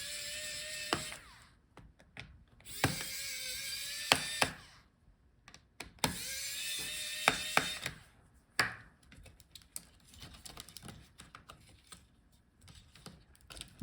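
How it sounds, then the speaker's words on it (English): Screws being undone on an HP Elitebook 840 G11 laptop during a teardown: close, small clicking and ratcheting bursts from a screwdriver, repeated in several spells with quiet gaps between them. "So unscrew all the screws."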